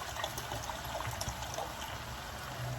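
Bottled water pours into a pot of chicken curry, a soft continuous trickle close by and fairly faint.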